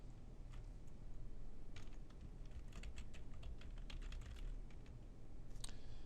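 Someone types a username and password on a computer keyboard, a quiet close run of light key clicks in uneven bursts with short pauses between, alone in a silent room.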